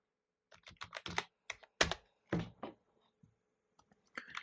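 Typing on a computer keyboard fills a search box, with quick bursts of close, crisp key taps, short pauses between words, then a final flurry, with no talk.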